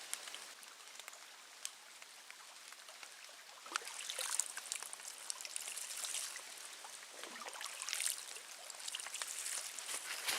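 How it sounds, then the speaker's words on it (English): A mountain stream flows at the foot of Government Peak in Michigan's Porcupine Mountains, a faint, continuous trickling and splashing with small bursts of louder gurgling, heard up close in a quiet forest. "Now we're coming up to a stream at the bottom of Government Peak"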